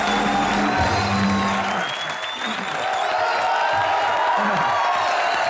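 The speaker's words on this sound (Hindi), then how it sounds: "श्रीवास्तव जी के लिए जोरदार तालियां।" Studio audience applause on a Hindi comedy show during a Holi episode, dense steady clapping from a crowd, with a voice talking over it and music tones threading through.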